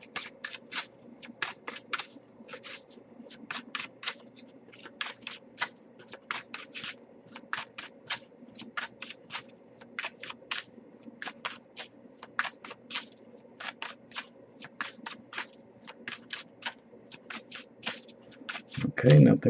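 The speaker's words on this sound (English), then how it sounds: "I'll give it a few more shuffles before we move on" A deck of tarot cards being shuffled over and over in rapid, crisp riffling bursts, steady and close, with a soft low hum underneath and a brief louder bump at the very end.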